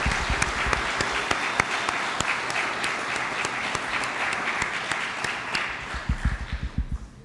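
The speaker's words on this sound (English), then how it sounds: "Let's give a big round of applause for these boys." An audience applauding veterans at a Veterans Day event, sustained dense clapping from a large crowd that holds steady, then thins into a few louder individual claps as it tapers off.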